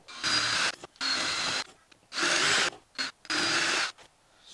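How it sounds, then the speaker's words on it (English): A power drill whirs in four bursts of roughly a second each while drilling holes for a school bus dashboard, separated by short pauses and small clicks, loud and close. "So I need to drill some holes."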